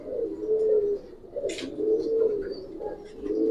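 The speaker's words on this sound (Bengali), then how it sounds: "অনেক সুন্দর একটা কবুতর" A Giribaz pigeon cooing in a loft, repeated low throaty coos in a steady rhythm, close and clear, with a brief flutter or rustle midway and no talking.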